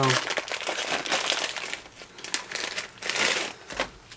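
A package of fiberglass repair cloth for a cracked Miata panel being torn and opened, giving a steady run of loud, close crinkling and rustling of plastic wrapping throughout.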